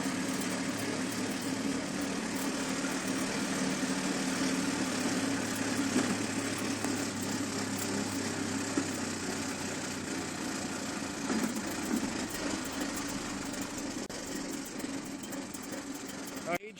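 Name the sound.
lawn mower engine running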